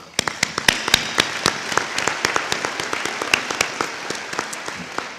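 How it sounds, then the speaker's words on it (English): Audience at a National High School Football Hall of Fame induction ceremony claps in a sharp, distinct rhythm of separate hand claps, fairly close and steady across several seconds, with a light diffuse applause bed underneath. "give a round of applause to the man that made this possible, Mr. Lamont Robinson"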